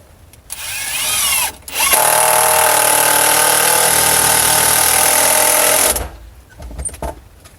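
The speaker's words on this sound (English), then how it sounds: "So I take two screws. These are 3-inch long screws, number 10s that I am putting in." Power drill driving 3-inch No. 10 screws into the wooden sides of an aquaponics grow bed: a short burst of whirring, a brief pause, then a loud steady whine lasting about four seconds that stops abruptly.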